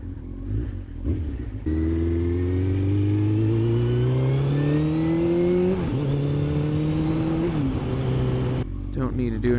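A Kawasaki Z1000 motorcycle is ridden on a wet road, its engine pulling up through the gears in several rising, close drones with brief dips at each shift and wind rush over the microphone.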